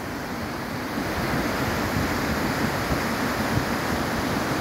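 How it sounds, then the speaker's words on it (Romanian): A turbulent mountain river in the Himalaya rushes in a loud, steady roar of churning water, constant and close throughout with wind mixed in and no voices. "Râul este unul destul de învolburat."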